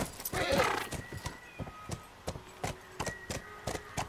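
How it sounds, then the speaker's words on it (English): A horse whinnies loudly near the start, then its hooves clop in a steady rhythm in the video game The Last of Us. "I love that we got a horse now."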